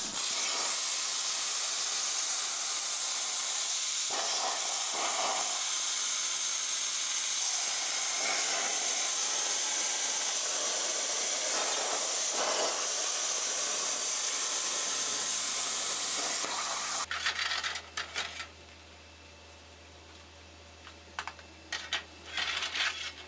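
A CNC plasma cutter torch cuts a square from metal with a loud, steady hiss that runs for about seventeen seconds and then cuts off, leaving a low hum and a few mechanical clicks and taps.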